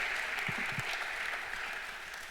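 Audience applause honoring artist Rachel Rose's installation, steady dense clapping throughout with a few low murmurs, moderately close and fairly even in level.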